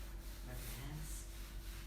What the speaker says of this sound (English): Rub your hands.